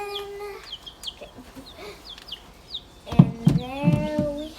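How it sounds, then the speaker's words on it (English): Chickens cluck in a backyard coop just after it has been cleaned out, with a sharp run of high clucks and squawks up close near the end and lighter chirps and calls scattered earlier. "So now we're gonna show you chickens."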